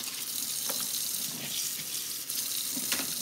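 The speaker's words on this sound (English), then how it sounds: "I'm just running cold water on them to cool them down so that I can handle them." Cold water runs steadily from a kitchen tap over cooked crabs to cool them, giving a close, continuous splashing hiss with a few brief splatters and no talking.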